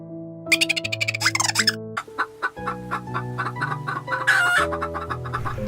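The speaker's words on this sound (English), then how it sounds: "Chicken," Chickens cluck in quick, loud bursts, then a rooster crows with a long, ringing call, all close and clear over a soft musical backing.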